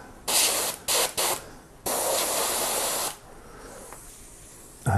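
A Badger Xtreme 105 airbrush sprays Badger cleaner in close, loud hissing bursts: three short blasts, then a longer sustained spray of about a second, ending in quieter background noise.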